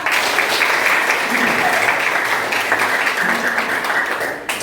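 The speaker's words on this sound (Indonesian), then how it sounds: "Tepuk tangan semuanya anak" Schoolchildren in a classroom clap their hands together, a loud, busy patter of many small hands that runs continuously before tapering off at the end, with some voices mixed in.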